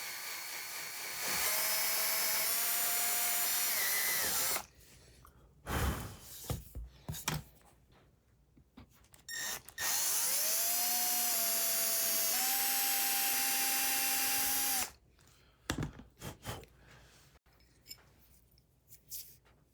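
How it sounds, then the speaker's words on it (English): Step drill bit boring tuner holes through a guitar headstock, in two long loud bursts of whining power-drill noise separated by quieter handling and clatter. "I really do prefer using a step bit to get the initial sizing right"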